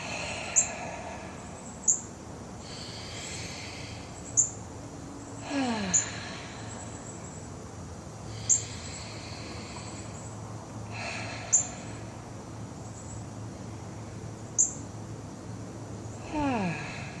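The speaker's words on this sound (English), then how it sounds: "Breathing deeply." Deep, slow breaths taken during a calming daily energy exercise routine with crossed, rolled-up hands; several long, close inhales and exhales spaced a few seconds apart, with no talking.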